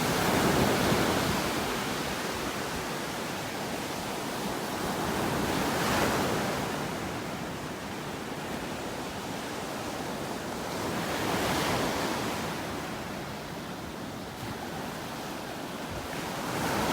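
Rough ocean surf breaks steadily on a beach in North Naples, Florida, a continuous close roar that swells into louder crashing waves every few seconds, with no voices.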